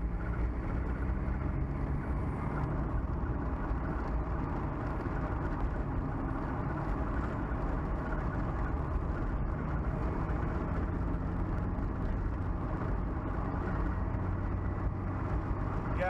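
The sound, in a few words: Mazda Miata manual-transmission car driving, engine running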